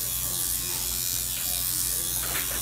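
A tattoo machine fitted with a 15 magnum curved needle buzzes steadily and close during live tattooing, a continuous electric hum that never breaks, with voices speaking faintly underneath.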